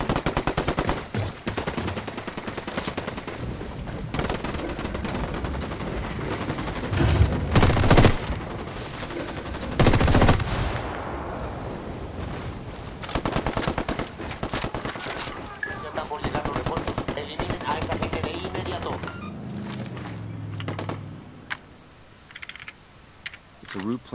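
Gunfire in the video game Ghost Recon Wildlands, with rapid bursts of automatic fire and sharp individual shots crackling loudly over several seconds, mixed with clattering mechanical effects and occasional voices.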